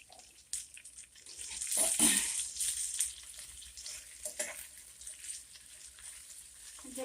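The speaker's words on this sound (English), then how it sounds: "Then you'll see how everything goes as I'm cooking the spinach." Spinach and green peppers sizzle loudly in a hot pan, with a burst of frying as the greens go in and stirring scrapes afterward, then a fading, crackling hiss.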